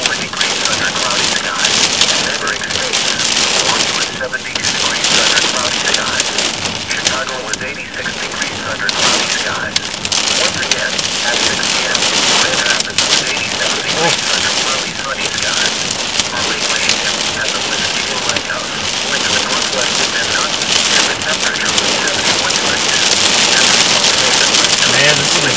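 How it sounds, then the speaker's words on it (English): Heavy rain and dime-size hail pound down during a supercell thunderstorm near Athens, Michigan, with sustained wind around 28 mph and flooding nearby; a loud, dense, continuous roar of drops and impacts fills the whole stretch. "We're taking hail like crazy right now."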